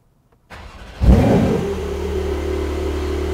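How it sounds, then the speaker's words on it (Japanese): A Porsche 911 Turbo S Cabriolet, Type 992, cranks and fires with a sharp loud burst, then settles into a steady, humming idle close by, with no talking over it. "一回エンジンかけなきゃダメなのかな"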